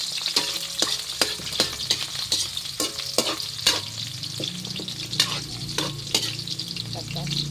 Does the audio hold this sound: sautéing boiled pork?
yes